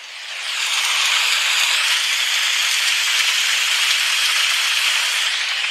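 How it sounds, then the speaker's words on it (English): Rain falling on a tent from a sleep sound app, a dense steady hiss that fades in over the first second and then holds even and constant, with no voices. "So you've got rain on a tent."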